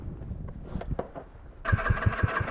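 A scooter flooded with water in its exhaust after being submerged sputters through weak attempts, then catches and runs close by with a rough, rhythmic low chugging and a steady mid-range engine drone.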